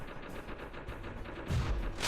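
Rapid continuous gunfire in the Particle Fleet video game, a dense rattling burst of game weapon shots with a louder, heavier blast near the end, no voices.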